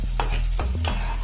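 Curd and ground nuts being stirred into rohu fish curry in a pan, a few quick close scraping stirs over a low sizzle.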